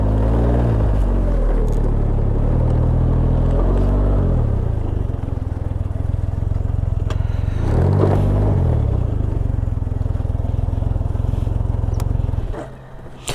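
A Can-Am Ryker rides steadily with its engine droning loud and close, while the loose left side cover rattles and buzzes through the engine noise. The engine swells briefly near eight seconds and the sound drops off at the end.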